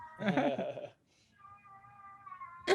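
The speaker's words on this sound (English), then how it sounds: "My cat is making very strange noises." A house cat makes odd, strange meowing noises: a rough, busy yowl at first, then a drawn-out wavering tonal cry, and a short sharp squeal at the end, all fairly close.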